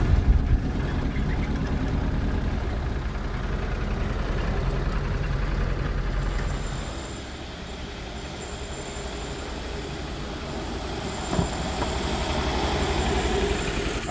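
A GAZ M-1 Emka passenger car engine runs steadily at a low idle-like rumble throughout, with a broadband drone that dips slightly midway and a brief knock near the end, no talking.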